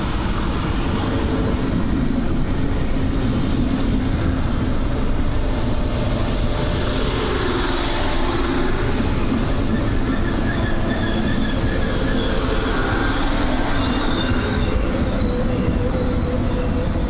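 A Berlin S-Bahn class 485 electric train rolls steadily on rails, loud and close, with continuous rumble, rhythmic wheel clatter and occasional squealing wheels throughout, no voices.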